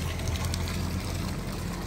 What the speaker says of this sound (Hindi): जहाँ पे आप बैकग्राउंड में नेचर का खूबसूरत पानी का झरने का शोर सुन रहे हैं